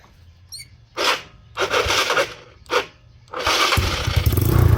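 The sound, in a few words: motorcycle engine starting, loud exhaust pipe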